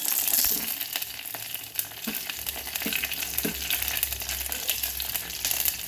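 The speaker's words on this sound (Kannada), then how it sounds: "ಈಗ ಸಾಸಿವೆ ಪಟಪಟ ಅಂತು ಕರ್ಬೇವಿನ ಸೊಪ್ಪು ಹಾಕಿದ್ದೀನಿ" Mustard seeds spluttering and curry leaves hitting hot oil for a tempering, a steady close sizzle with scattered crackling pops and a low rumble beneath, no talking.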